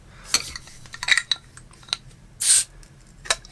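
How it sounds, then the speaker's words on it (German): A bottle of Oettinger Malz is opened: a few small clicks and clinks of glass and metal, then a short sharp hiss of released gas, heard close up with no talking. "Jetzt machen wir es mal auf."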